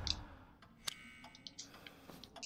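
A pendulum clock ticks faintly in the video game Resident Evil 7, with soft, irregularly spaced clicks over a quiet ambient hum.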